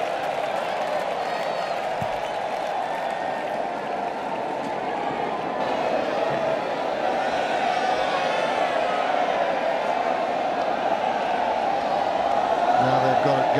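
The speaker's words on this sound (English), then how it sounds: "And the crowd wanting to do the wave." A large Roland-Garros crowd at the 2014 men's final between Nadal and Djokovic cheers steadily as the wave sweeps around the stadium, a sustained roar of voices and applause that swells slightly over time, with commentary heard over it.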